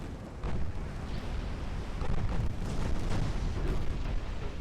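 A torpedo detonating in the naval warfare game Ultimate Admiral Dreadnoughts produces a sustained, rumbling blast with heavy low-end roar, rising in intensity partway through and staying loud to the end.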